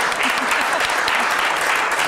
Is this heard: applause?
yes